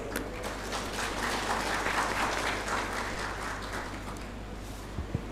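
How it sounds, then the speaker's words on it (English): Audience applause for the panelists at a session, a steady wash of clapping from a room full of people that holds for several seconds with no talk over it. "Please give our panelists a big round of applause."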